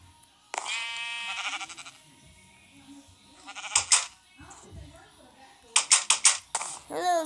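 Sheep in the video game Minecraft bleat in a long wavering cry, then several short bleats follow, with quick clicking keys and someone talking in between.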